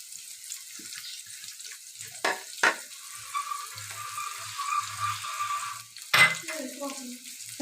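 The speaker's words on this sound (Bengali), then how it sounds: "এই দেখুন পেঁয়াজ কুচি, এই রসুন কুচি আর লঙ্কা কুচি দিয়ে দিচ্ছি।" Chopped onion, garlic and chili hit a hot tawa on a stove, giving a soft, steady frying hiss with a few sharp clatters of utensils, close by and fairly quiet.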